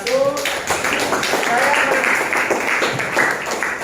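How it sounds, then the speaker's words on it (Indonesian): Applause from a classroom group for a presenting team, a short burst of close, dense clapping from a small crowd, with voices chattering underneath. "Kita kasih aplaus dulu untuk kelompok 1"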